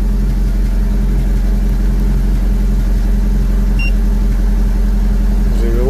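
A Mitsubishi Colt engine idles steadily and close by with an even low hum, and a brief faint chirp is heard near the end.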